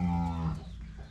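A cow moos at a cattle farm in Ba Tri, Vietnam: one long, loud, deep bellow close by that fades toward the end, with no talking.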